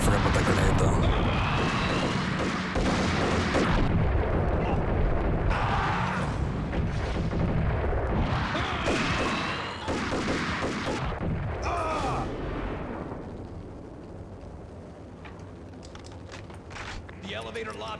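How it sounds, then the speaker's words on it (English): Grenade blasts and gunfire in the video game Max Payne, loud booming bursts over a dense, continuous clamor of combat noise, with someone talking over much of it. "Oh wait, I forgot about that grenade though."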